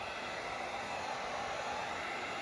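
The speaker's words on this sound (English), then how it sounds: "These heat guns are pretty strong, so you don't want to hold the heat gun in one place for too long." A strong heat gun blows hot air onto double-sided tape on a BMW F10 M5 bumper, giving a steady, even whooshing hum that runs unbroken from start to finish at moderate volume.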